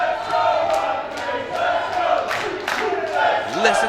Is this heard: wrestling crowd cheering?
yes